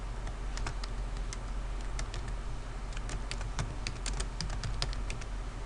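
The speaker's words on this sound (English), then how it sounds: "Subject, and I type my message." Fast typing on a computer keyboard, a steady patter of light key clicks over a constant low hum, close and fairly quiet, with no talking.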